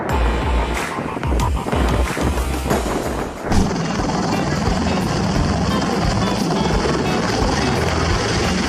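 A helicopter lands on yoga mats laid out as a helipad, giving a loud, continuous rotor and engine roar with rushing wind noise and some clattering early on.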